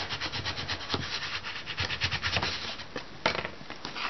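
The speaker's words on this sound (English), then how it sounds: "then I would get the bone folder and really burnish that in" Bone folder burnishing paper on a vintage mini album binding: close, repeated rubbing and scraping strokes in an uneven back-and-forth rhythm, soft and dry, with no talk.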